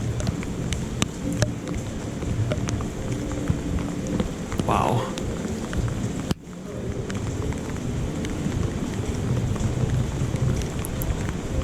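Heavy rain pouring onto a city street in Prague, a steady loud hiss of drops on pavement throughout, with a brief voice exclaiming partway and faint passing street noise beneath.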